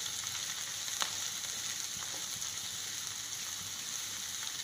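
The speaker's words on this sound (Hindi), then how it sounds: "अब हम इसमें डालेंगे कैबेज, बिल्कुल बारीक श्रेड की हुई कैबेज इसमें डली जाएगी, इसको भी हम थोड़ा सा सौते कर लेंगे" Finely shredded cabbage sautés in a pan for a spicy vegetable macaroni, giving a steady, close frying sizzle with faint crackles and stirring clicks throughout.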